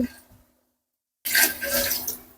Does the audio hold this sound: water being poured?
yes